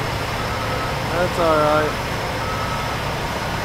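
Reversing beeps from a truck on a foggy morning, a short burst of repeated electronic beeps partway through, set against a steady engine and road hum with a person talking.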